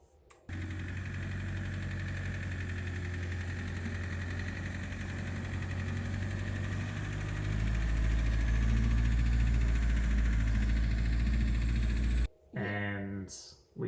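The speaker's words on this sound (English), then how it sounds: "We had a bit of a ticking sound." An Iveco Daily truck's faulty diesel engine idles steadily and close by, with a rapid ticking running through the drone. The engine grows louder near the end before cutting out, and a brief sound follows.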